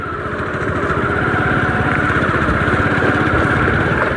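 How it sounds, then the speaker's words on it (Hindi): Vehicle engines on National Highway 27 near Ayodhya, where an overbridge is being built, make a continuous loud traffic rumble with a steady engine drone throughout. "गाड़ी वगैरह तो जाती जाती रहती हैं।"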